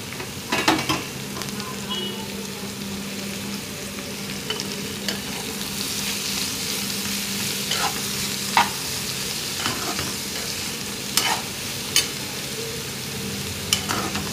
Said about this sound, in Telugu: మనం కట్ చేసి పెట్టుకున్న బీరకాయ ముక్కల్ని అందులో వేసేయండి. వేసిన తర్వాత కిందకి పైకి బాగా కలుపుతూ పెట్టండి